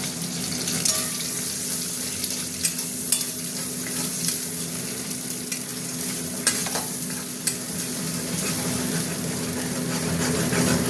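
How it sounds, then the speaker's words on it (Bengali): Eggs frying in hot oil for mixed fried rice make a steady, close sizzle with occasional stirring clicks and scrapes, continuous throughout with no talking. "ডিমটা ভাজা হতে থাক।"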